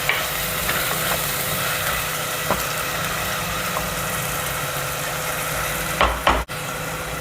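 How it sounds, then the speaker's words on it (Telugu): Mutton keema fries in a clay pot with a steady, broad sizzle, and there are a few faint stirring scrapes and a louder clatter near the end. "ఇది ఒక 2 మినిట్స్ ఫ్రై అవ్వాలండి. పచ్చివాసన పోయేంత వరకు ఫ్రై చేసుకోవాలి."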